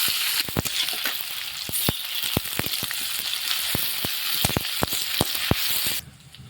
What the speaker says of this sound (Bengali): তেলটা গরম হয়ে গেছে, দিয়ে দিব আমি পেঁয়াজ।